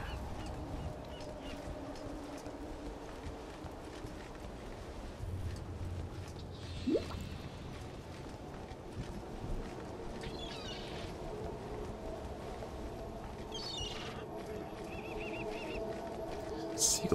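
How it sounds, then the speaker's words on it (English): Seagulls cry in the Path of Exile video game, a few scattered, faint calls over a steady low ambient background. "Seagulls"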